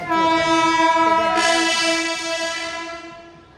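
Horn of an AC passenger train in India, a loud sustained harmonic blast that holds steady and then fades over a few seconds, heard alone without talk.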